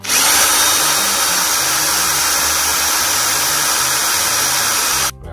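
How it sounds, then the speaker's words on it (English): A power drill whirs loudly and steadily for about five seconds drilling a pilot hole into a centre punch mark, then cuts off abruptly. "we put the pilot drill into the centre punch and we turn it on"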